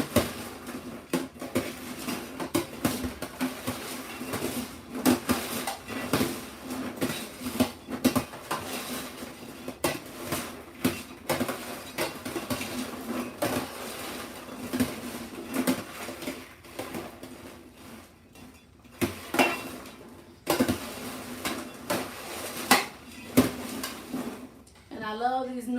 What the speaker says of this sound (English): now I have to start moving this popcorn around or it's dry in one big clump.